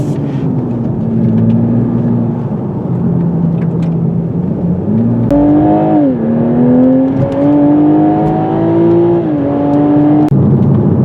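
A 2021 Toyota Supra six-cylinder sports car drives along a winding road at night. Its engine drones loud and close, with the revs climbing and falling through gear changes partway through.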